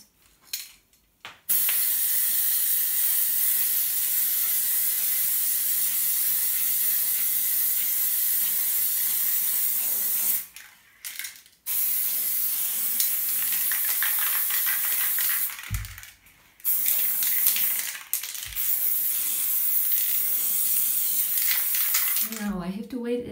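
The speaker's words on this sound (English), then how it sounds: "and spray it all over my canvas." White acrylic spray paint hisses from a can onto a canvas in long continuous bursts, with short pauses between sprays and one brief rattle near the end.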